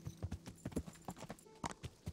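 Hooves clip-clop steadily on a hard surface, a horse in the video game Kingdom Come: Deliverance walking at an even pace nearby, fairly quiet.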